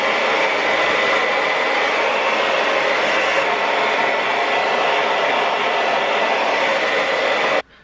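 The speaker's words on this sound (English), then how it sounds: "I do have a blow dryer. Maybe I should dry it a little bit." A hair blow dryer drying hair whirs close and loud as a steady, continuous rushing hum, then cuts off abruptly just before the end.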